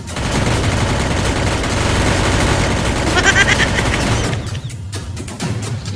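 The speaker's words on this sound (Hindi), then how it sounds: "मैं मशीन गन चलाने लगा हूँ" Machine gun fire in a staged war comedy scene: dense, continuous bursts of rapid shots and booms that keep up for several seconds, then thin into a few scattered cracks.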